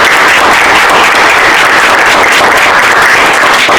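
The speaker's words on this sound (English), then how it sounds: "So I hope we clap and welcome her here today." A dense, loud burst of audience clapping welcoming a speaker at a design lecture, close and steady throughout.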